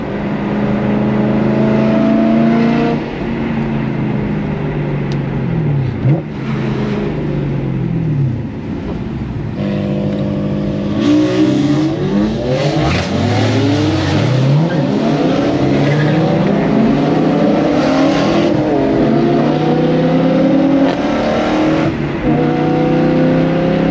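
Performance cars at a car meet, including an S65 and BMW G80s and S55s, rev loudly up close, engines rising and falling in repeated throaty bursts with some tire squeal, no talking.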